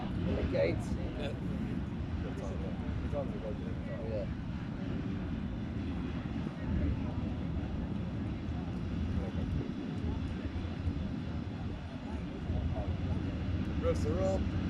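Minibike engines rev together at the start of a minibike championship race, a steady, distant-sounding drone that holds for the whole stretch beneath people talking.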